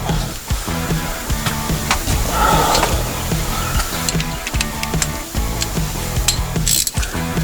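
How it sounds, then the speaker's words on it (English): A 3/8-inch drive ratchet clicks steadily as it tightens the transmission pan bolts on a Dodge Ram 1500 truck, a continuous run of close, crisp pawl ticks with brief pauses between strokes. "Now we're going to use a 3/8 drive to tighten these up."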